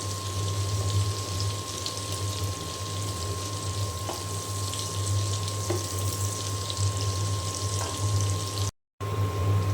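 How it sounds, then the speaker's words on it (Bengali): Pointed gourd (potol) frying on both sides in a pan gives a steady, continuous sizzle with a low, even hum underneath, and no one speaks. "এখন দুই পাশে খুব ভালো করে আমি ভেজে নেব।"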